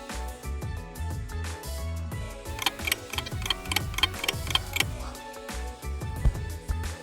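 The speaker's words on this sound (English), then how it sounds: "You can also add in more clock ticking sound effects to match other parts of the video." A clock ticking sound effect keeps a steady, rhythmic tick-tock pulse, set against a layered musical background with low, thumping tones.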